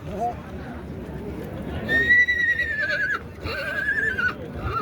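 Horses whinny loudly in a busy outdoor crowd at a horse market in Shahidon, two long neighs rising over steady background chatter and market bustle.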